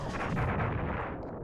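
Bombs going off in the original Star Fox, a loud continuous rumbling blast that holds steady for over a second before thinning out, with no talk over it.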